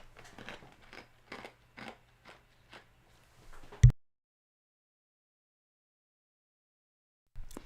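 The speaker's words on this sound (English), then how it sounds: "Do we all want some ASMR ice chewing action?" Ice is crunched between the teeth in a run of short, close, crisp bites, ending in one louder crack before silence.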